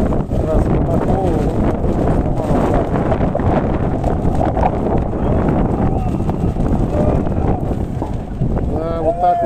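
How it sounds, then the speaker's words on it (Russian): Gusty wind buffets a microphone outdoors on Manezhnaya Square in Moscow, loud low rumbling blasts that rise and fall, with someone talking over it throughout. "сегодня, значит, очень порывистый ветер"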